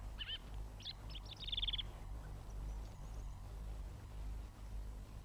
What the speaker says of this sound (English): the song thrush.